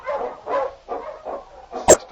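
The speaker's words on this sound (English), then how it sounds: "The Wonder Dog King, swiftest and strongest of Eskimo lead dogs, blazes the trail through storm and snow" Sled dogs bark in a series of about five yelping calls at an even pace, with a sharp crack near the end, staged as a radio drama effect on an old Yukon adventure program.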